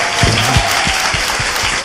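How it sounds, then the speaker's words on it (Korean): Studio audience applause in a Korean talk show, a loud, steady wash of clapping lasting the whole moment, with a brief voice underneath. "다시 박수."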